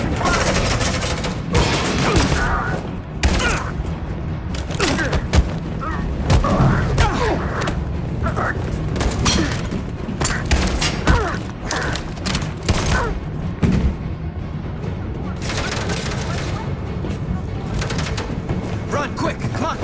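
Dense rapid gunfire from a shootout in Detroit: Become Human, with thumps and booms layered over voices shouting throughout, loud and continuous for the whole stretch.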